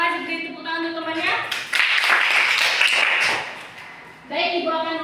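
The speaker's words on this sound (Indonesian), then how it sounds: "Beri tepuk tangan untuk temannya." A class of students applauds a classmate during a micro-teaching lesson, a broad burst of clapping lasting a couple of seconds between stretches of the teacher talking.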